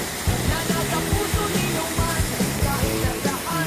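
A waterfall in Laguna roars as a steady broadband rush, with voices talking over it.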